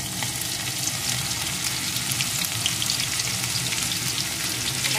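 Crushed ginger and garlic fry in hot oil left from paneer, giving a dense, continuous sizzle and crackle, close and steady throughout.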